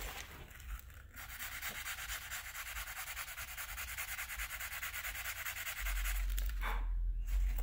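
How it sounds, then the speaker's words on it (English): Sandpaper rubs across a carbon fiber Native American flute to flatten it, a close, steady rasping scrape that runs almost continuously, growing slightly louder toward the end. "I might sand this just a tiny bit with my sandpaper to try to get some flatness into it."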